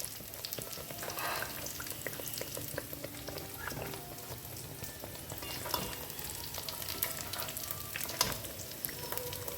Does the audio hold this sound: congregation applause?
no